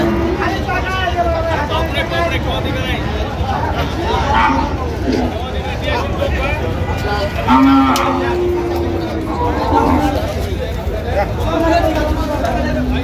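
Sahiwal bulls at a busy cattle market in Dinajpur moo loudly several times, with deep drawn-out calls rising over a steady crowd babble and nearby talk.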